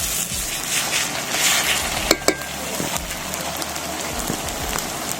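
Garlic and spice paste of cumin, fennel, dried chilli and black pepper fries in oil for a Bengali duck curry, giving a steady, fairly loud crackling sizzle throughout with a couple of sharp clinks near the middle.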